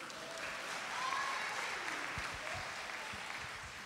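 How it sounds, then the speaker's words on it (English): Audience in a church service for a Father's Day gathering claps steadily, a dense, sustained round of applause filling the room from start to finish with no talk over it. "That's where y'all clap at."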